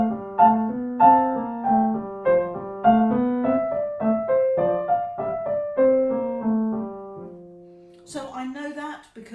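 A Dussek gavotte is played on a solo melodic instrument as a light, graceful dance line of detached notes with a steady pulse. The phrase slows and settles on a held note, then a short noise follows at the end.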